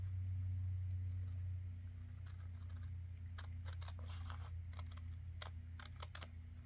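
Scissors snip repeatedly at a paper flip tag: a quick run of close, crisp cuts after a low background hum, each snip short and distinct, with no talking.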